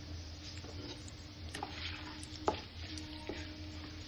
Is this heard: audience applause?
no